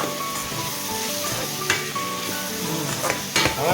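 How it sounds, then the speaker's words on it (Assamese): Meat frying with tomatoes in a pan gives a steady, close sizzle throughout, with occasional stirring scrapes and light clinks of utensils against the pot. "মাংস বনোৱা হৈছে।"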